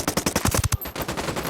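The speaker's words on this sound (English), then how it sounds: "I'm opening fire." Rapid automatic gunfire in the tactical shooter Ghost Recon Wildlands, a quick burst of about a dozen close, punchy shots followed by a brief softer rattle.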